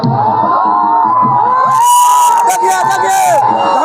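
Large excited crowd of fans packed along a highway around a film star's stop, loud continuous shouting and cheering with children's voices and bursts of whooping, all close and dense.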